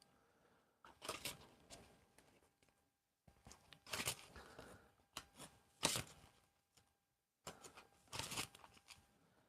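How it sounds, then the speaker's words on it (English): A deck of cards is shuffled in quiet, close bursts, four brisk riffling passes separated by short pauses, faint and soft overall. "I'm just sort of just shuffling my cards"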